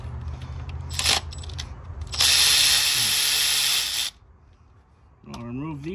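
Ratchet working 10 mm bolts loose on a Honda CR-V, a close mechanical clicking burst followed by a sustained louder buzzing stretch, then quiet and a brief rattling at the end.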